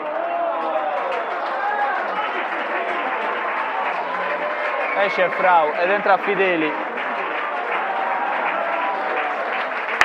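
Stadium crowd at a Torres versus Flaminia football match applauds as the player Frau is substituted off, a steady wash of clapping running under a commentator's continuous voice.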